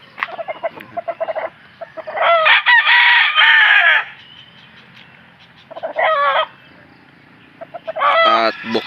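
A gamecock crows loudly and close by, with several long crows broken by clucks and short calls, while someone talks in between.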